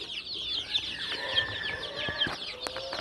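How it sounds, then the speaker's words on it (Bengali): Young Brahma and desi chicken chicks, some 10 to 25 days old, cluck and peep steadily, with busy overlapping high calls and a few sharper cries, fairly close. "এখানে 25 দিন, 10 দিন, 15 দিনের কিছু ব্রাহ্মার দেশি মুরগি আছে"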